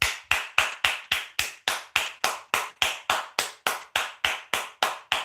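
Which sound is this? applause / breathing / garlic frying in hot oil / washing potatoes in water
applause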